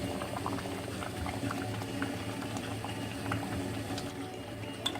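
Homemade tomato sauce simmering in a pan, thickened and bubbling steadily with dense, continuous small pops and gurgles close by, no voices over it.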